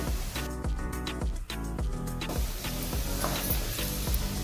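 Softened, lightly golden onions sizzle in a pan as red chilli powder goes in, a constant close frying hiss with soft stirring under steady background music, with no voices.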